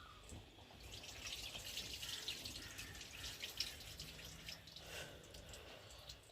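Rice is rinsed in water in a home kitchen, a faint continuous sloshing and trickling with small drips, quiet and steady throughout with no talk.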